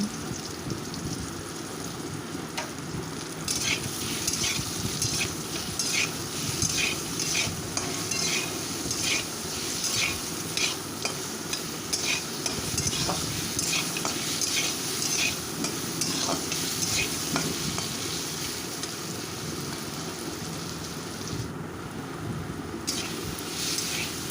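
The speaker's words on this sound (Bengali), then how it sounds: "আমটা ভাজতে ভাজতে আমার নরম হয়ে গেছে, আর এটা কিছুক্ষণ ভেজে নেব।" Raw mango pieces frying in a pan for sour Bengali lentil dal, with steady oil sizzle throughout and repeated close scraping and stirring strokes, no talking.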